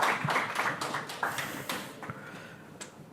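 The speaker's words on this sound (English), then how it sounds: "Greet him with applause as always" Conference audience applauding a speaker at DevFest Vienna, a modest, fairly close patter of claps that starts full and thins out to scattered single claps within a few seconds.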